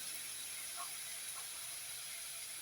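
Chopped onion sizzles in a hot frying pan during vegetable stew preparation, giving a steady, bright hiss with a couple of faint spits.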